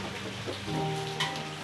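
Rain falling, a dense close hiss of drops spread evenly through the short stretch, with some faint tonal sounds and a brief rustle layered on top.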